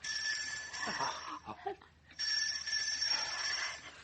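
A bell rings in a dramatized audio story, a sustained bright ringing that pauses briefly midway and then resumes, loud and close, with faint voice sounds in the gap.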